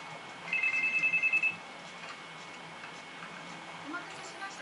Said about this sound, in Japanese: 正午過ぎ、一本の電話がかかってきました。